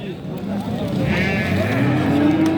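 Sheep at a livestock market in Mastchoh bleat briefly amid the steady hubbub of the crowd, while someone talks close by throughout.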